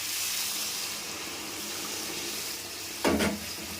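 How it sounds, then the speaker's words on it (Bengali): Hot water is poured into a simmering pan of rohu fish curry with eggplant and ridge gourd: a soft steady sizzle, then a short, louder splash of liquid near the end. "এবার গরম জল দিয়ে দেব।"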